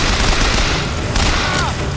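Gunfire in the video game Bioshock Infinite crackles as a dense, continuous burst of shots and booms filling the whole moment, loud and busy with no talk.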